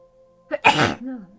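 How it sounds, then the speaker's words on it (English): A single close sneeze, a sharp explosive burst after a short intake of breath, followed by a brief vocal murmur. "I have to sneeze."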